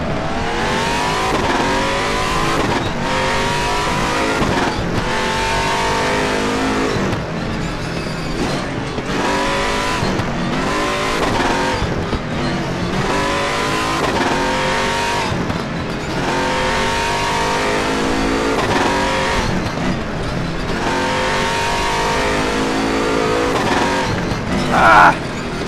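Race car engine in RaceRoom Racing Experience, revving hard and continuously with shifting pitch sweeps as the car runs off the road and spins, loud and close throughout with no talking.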